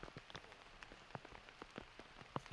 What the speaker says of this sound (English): it was kind of off and on drizzle throughout the day